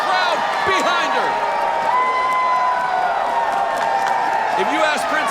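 A women's wrestling arena crowd cheers and whoops continuously, dense and loud with high excited shouts rising over the roar, while a commentator talks over it.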